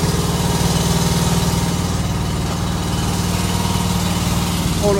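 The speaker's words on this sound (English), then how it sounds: "I started with this mower right here" A lawn mower engine runs steadily at close range, a loud, even drone that stays constant throughout with no talking.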